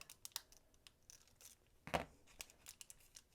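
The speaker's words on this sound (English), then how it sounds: "then I'm going to trim up the other side" Scissors trimming a gelli print paper, a few quiet crisp snips and paper rustles, one louder cut in the middle, faint and close with no talking.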